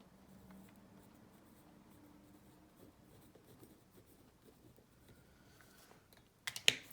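Pen writing by hand on paper, faint soft scratching strokes close by in a quiet room, ending with a few louder paper rustles.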